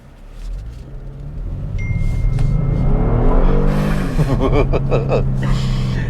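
A 2022 Kia Stinger GT1 with a 3.3-liter twin-turbo V6 accelerates in sport mode, its engine note rising in pitch as it revs up, loud and close, then settling into a steady strong drone.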